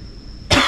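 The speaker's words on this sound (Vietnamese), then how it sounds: "Anh ho một cái" A single sharp cough bursts out loud and close after a quiet moment, performed as part of a cough technique demonstrated during a simulated heart attack.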